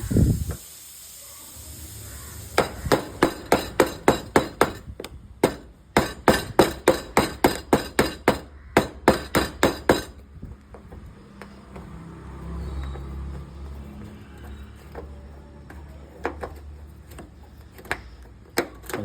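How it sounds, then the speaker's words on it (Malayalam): A hammer strikes repeatedly on the bumper screws of a 2005 Maruti Suzuki Alto under restoration, with loud sharp blows in quick rapid runs for about ten seconds, followed by quieter shuffling and low rumbling. "നമ്മൾ ഇതിൻ്റെ ബമ്പറിൻ്റെ സ്ക്രൂവെല്ലാം അടിച്ചളക്കി"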